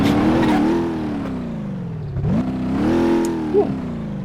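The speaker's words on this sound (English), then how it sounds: "And now my car's running." A car engine in the BeamNG.drive driving game idles and then revs up and down in smooth swells. It is loud and close with a steady hum, and nobody speaks.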